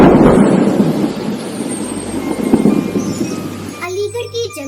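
Steady rain pouring down in a jungle during the monsoon season, a dense continuous hiss with low rumbling thunder, fairly loud and close throughout, with a brief high chirp near the end.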